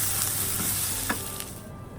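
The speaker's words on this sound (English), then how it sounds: "Add garlic and ginger paste. Saute until fragrant for a few minutes." Garlic and ginger paste sautés in a hot pan, giving a steady close sizzle and crackle with a few soft stirring scrapes and no voices.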